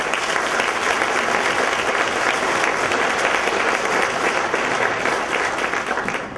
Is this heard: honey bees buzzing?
no